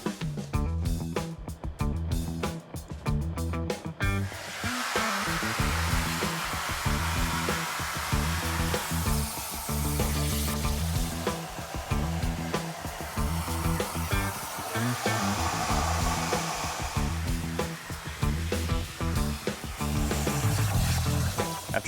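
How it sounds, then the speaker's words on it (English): A plasma table cuts steel chassis pieces for a 1972 Camaro split bumper, producing a steady, loud hissing roar that runs throughout with a rhythmic mechanical undertone. "I have to get to the plasma table and cut these out"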